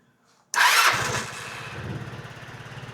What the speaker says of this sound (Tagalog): Testing natin kung andar ba tong motor natin.